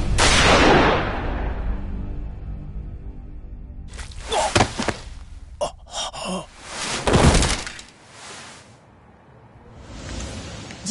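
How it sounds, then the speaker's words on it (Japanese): Several sharp gunshots ring out with bursts of noise and echoing tails, separated by gaps, loud and close within a game soundtrack. "銃声がしたから駆けつけたのよ。"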